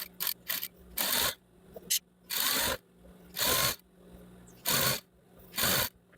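A sewing machine stitches a fabric strip in short bursts, each run of rapid stitching lasting about half a second to a second, separated by pauses, close and fairly loud.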